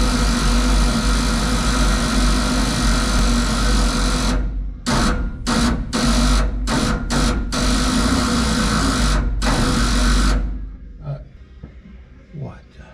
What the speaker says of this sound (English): That's a solenoid making that noise.